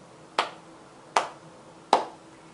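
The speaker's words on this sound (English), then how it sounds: "Can you clap with me?" Three sharp, evenly spaced hand claps ring out in a quiet room, each a crisp close transient with a short decay, slightly more than half a second apart.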